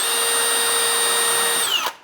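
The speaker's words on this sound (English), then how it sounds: "Got a Vicks bit in my drill the pilot hole." A power drill fitted with a Vix bit drills a pilot hole during cabinet installation, a steady high whine held close and loud, then winding down and stopping abruptly.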